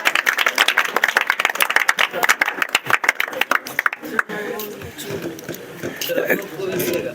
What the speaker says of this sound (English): Huge round of applause for Chandni.